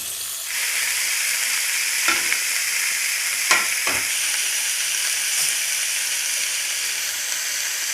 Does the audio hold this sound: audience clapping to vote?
no